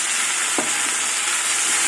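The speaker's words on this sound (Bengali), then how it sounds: "ভাজা হয়ে গেছে এবার আমি চিংড়ি মাছ দিয়ে দেবো" Frying onion and turmeric-and-salt-coated prawns in a pan give a constant, close, bright sizzle with one soft stirring scrape.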